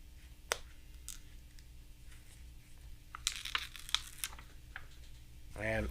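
Adhesive backing being peeled off a small sticker American flag for a FDNY Ladder 9 fire truck model diorama. Quiet, close crinkly rustles and scattered clicks, with a busier patch of crackling partway through and a voice starting at the end.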